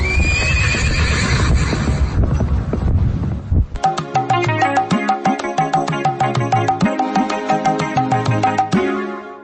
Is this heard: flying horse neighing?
yes